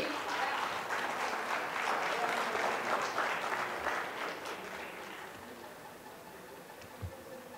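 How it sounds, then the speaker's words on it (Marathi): An audience claps steadily for several seconds, the applause fading gradually toward quiet, with a soft voice audible near the end. "थोडं टाळ्या सगळ्यांनी."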